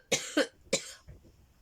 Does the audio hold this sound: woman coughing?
yes